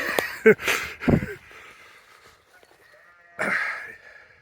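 Sheep bleat in a field on a morning country walk. A few short, close calls come in quick succession, then a single longer bleat follows after a quiet pause.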